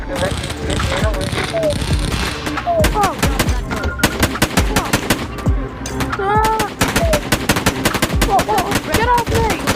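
A tommy gun rattles off rapid automatic bursts in the VR game I Am Bird, loud and close, with short pauses between volleys and game sound effects mixed in.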